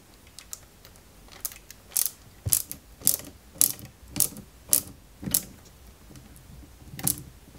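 Small screwdriver turning a screw into a plastic part of a 1/8 scale Lotus Renault 97T model, a run of about ten crisp ratcheting clicks at a steady rhythm, close and fairly quiet.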